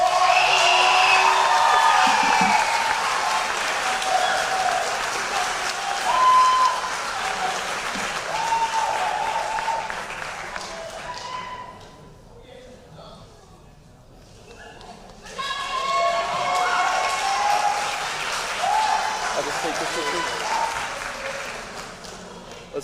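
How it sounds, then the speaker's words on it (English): A crowd at a school athletic banquet applauds steadily, loud clapping that fades to a quiet lull before swelling again, with some whoops and voices mixed in. "Let's give another big round of applause to our varsity indoor track, Coach Wilson."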